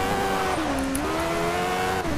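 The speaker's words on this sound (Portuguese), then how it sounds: "O carro derrapa, fica deslizando." Ferrari F1/87 Formula 1 car skidding and sliding at Barcelona in the PS3 game Ferrari Racing Legends, its steady loud engine whine bending in pitch with a faint tire squeal throughout.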